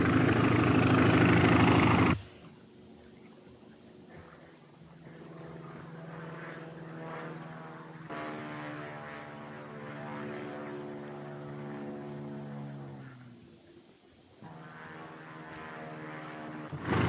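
A 1933 propeller plane drones steadily with a throbbing engine hum whose pitch shifts and slides, after a brief loud burst at the start, from an old film soundtrack.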